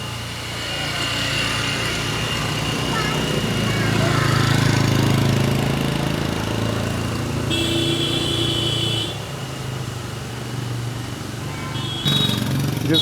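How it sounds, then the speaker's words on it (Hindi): Car engines labor uphill on the road to Gwalior Fort, a steady droning strain close by that swells and then fades, with brief higher mechanical whines near the end. "उन गाड़ियों के भी जो है दम निकल रहा है खींचने में, उनकी साउंड से लग रहा है"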